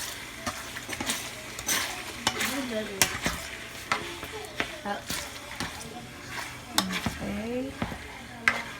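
A spoon stirs Filipino spaghetti sauce sizzling in a pan, giving repeated scraping strokes and clinks over a steady fry, while a voice speaks briefly.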